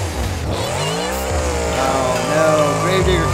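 Grave Digger monster truck engine at a Monster Jam freestyle event, smoking and struggling while stuck on a ramp before powering out: a loud, continuous roar with rising and falling revs under excited commentary.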